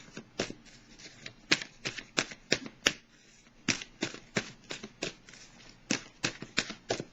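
Oracle cards shuffled by hand, a quick run of crisp riffling snaps in bursts with brief pauses between, close and fairly loud with no talking.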